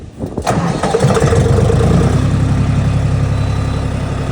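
A DTZ 354U tractor engine cranks briefly and catches, then settles into a loud, steady, close rumbling idle, with no talk.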